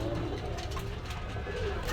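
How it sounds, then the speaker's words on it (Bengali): Dhakaiya Bagha pigeons coo at a busy pigeon market, soft repeated low calls under steady crowd murmur and nearby voices. "এই এক পেয়ার বাঘা কবুতর ঢাকাইয়া বাঘা রেস করানো বাঘা কবুতর"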